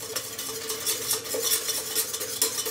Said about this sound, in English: all you have to do is just use your whisk, mix it up a little bit